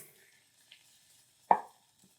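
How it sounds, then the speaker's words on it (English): One sharp knife stroke through a watermelon, cutting it in half, heard as a single crisp, close chop followed by a short moist crunch in an otherwise quiet kitchen. "Nice sharp knife. We'll go right in half. Half again."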